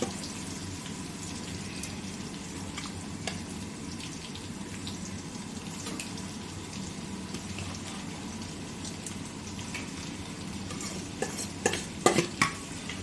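Marinated prawns go into a frying masala for prawn dum biryani, producing a soft, steady sizzle with faint scraping and stirring clicks that grow a little busier toward the end.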